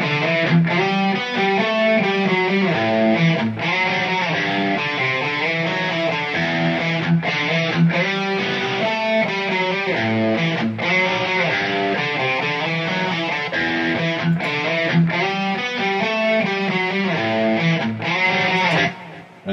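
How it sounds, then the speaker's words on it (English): Electric guitar runs through a Positive Grid Bias FX dual amp preset, producing a continuous distorted, driven riff with chugging rhythm and sustained chords, loud and steady for the whole passage. "So that's the sound of the dual amp channel."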